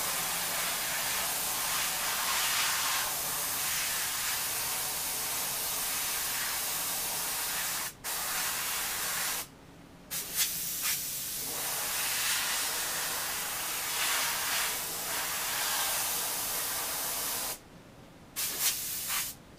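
An airbrush lays deep red paint around a stencil on a hat, giving a close, steady hiss that runs continuously and stops briefly twice before resuming.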